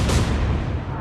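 A single heavy boom of destroyer guns firing at a ship in the naval game Atlantic Fleet, loud and close, with a deep rumbling tail that fades over a second.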